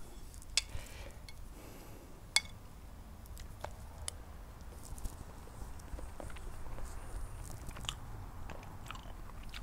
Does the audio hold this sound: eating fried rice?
yes